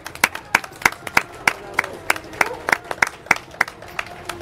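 Clapping for a group of elderly people in a neighbourhood gathering: a small crowd claps in a steady, rhythmic beat of sharp, distinct claps, fairly close, with faint voices beneath.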